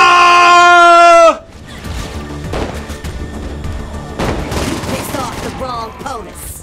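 A gun hip-fired in the video game Saints Row 4, in rapid bursts of shots after a loud sustained tone ends, with a voice talking over the shooting.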